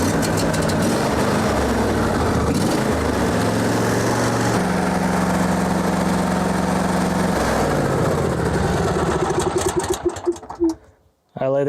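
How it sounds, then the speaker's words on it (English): A John Deere D155 lawn tractor engine idles loudly and steadily with a buzzing drone, then sputters and shuts off near the end. "we're going to start and run the engine at idle to check for leaks"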